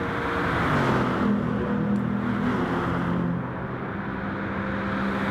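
Race car engines at Monza in the video game GT Sport, including a Lexus, drone with a steady high whine that rises and shifts in pitch as cars run together, then eases slightly toward the end.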